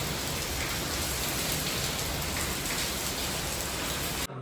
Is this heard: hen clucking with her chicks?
no